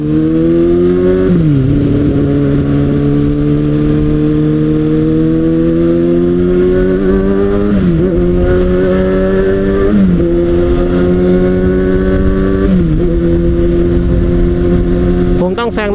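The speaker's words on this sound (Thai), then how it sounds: "มันคือรถ ซิ่งในคราบรถบ้านนะครับนิสสันเซฟิโร" A Nissan Cefiro sedan speeds past on a Thai road, its loud engine note rising and falling in repeated revving sweeps over constant road and wind noise.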